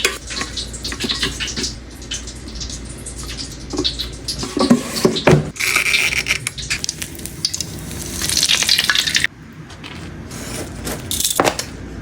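Milkfish (bangus) frying in oil in a pan, a dense crackling, popping sizzle with bursts of spattering and clattering, close and fairly loud.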